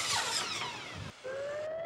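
A circular saw whines at high pitch as it cuts, then drops away and spins back up with a rising tone, close and loud with no talk.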